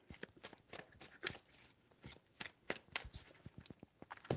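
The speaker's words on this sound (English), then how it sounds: "4 shuffles." Tarot cards are shuffled by hand in quick, irregular bursts of crisp riffling and slapping, close and soft, with no talking over them.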